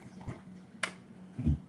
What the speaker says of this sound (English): My dog's going crazy in the background.